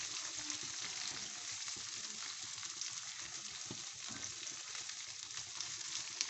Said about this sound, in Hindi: इसको हम मज़ीद भूनेंगे।